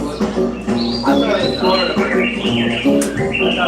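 Birds chirp and squawk in a busy, repeated series of harsh calls and bright tweets, close and fairly loud, with voices talking in the background.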